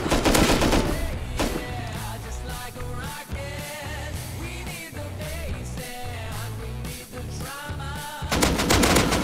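Gunfire in the video game Rust, rapid automatic bursts and repeated shots filling the whole stretch, dense and close, with louder volleys at the start and end.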